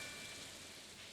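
Rain falls in the farming video game Stardew Valley as a soft, steady hiss of drops, faint and even throughout with no voices.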